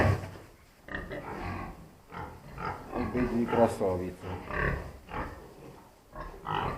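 Two sows on a farm grunting and snuffling close by in short irregular bursts, mixed in with someone speaking over them.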